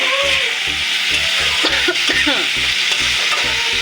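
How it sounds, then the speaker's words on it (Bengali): Diced potatoes stirred in hot oil tempered with cumin and dried red chilli for street-style ghugni, a steady loud sizzle with regular scraping strokes of the spoon in a rhythmic pattern, close and alone without talk. "এটা ভালো করে নাড়িয়ে নেওয়া হবে।"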